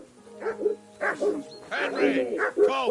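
Close, excited barking and yelping from a dog in the game Kingdom Come, bursts crowding together with whimpery tones while voices talk over the noise.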